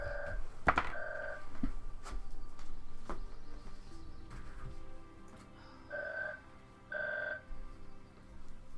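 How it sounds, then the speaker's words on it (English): A telephone rings in the background of a room, its two-tone electronic ring sounding in several short bursts with gaps between them, fairly faint under light clicks and room noise. "now the phone's going to ring"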